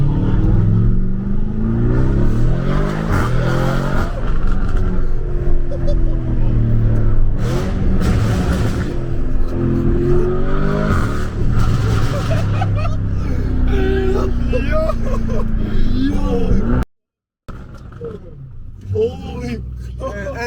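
A Lamborghini Urus with full body kit, custom exhaust and tune launches and accelerates, engine revving loudly with rising and falling pitch sweeps through gear changes, close by, while people talk and exclaim over it.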